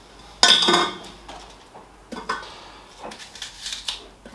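Pieces of a vegetable cut straight into a small cooking pot land with a sharp clattering knock, followed by several lighter taps and clinks as more pieces drop in.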